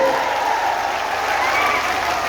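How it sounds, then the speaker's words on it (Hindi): Loud, sustained crowd applause at an election campaign rally in Bihar, a thick continuous wall of clapping with a faint tonal hum running beneath it. "जोर से ताली बजाओ"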